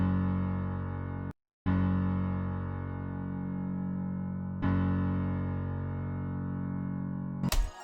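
A dark, sustained bass piano part for a sample, with long ringing low chords that swell and decay, a brief silent gap early on, a second chord change midway and an abrupt cutoff at the end.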